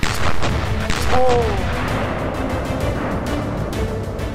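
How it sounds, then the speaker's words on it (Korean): A wooden-box landmine goes off at the DMZ with a loud, deep boom that rolls into a long, rumbling roar, then fades into a sustained noisy wash. "무언가 고막이 찢어질 듯한 굉음을 내면서 폭발했고"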